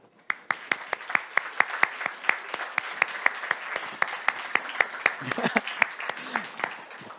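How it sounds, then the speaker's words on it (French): An audience at a tech awards ceremony applauds the jury members, giving steady rhythmic clapping from a modest crowd that continues evenly throughout without anyone talking. "Alors, c'est le temps de toutes les applaudir"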